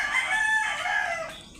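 A rooster crows loudly and close at a rural backyard coop, its long wavering cry filling the moment alongside hens clucking, with no voices present.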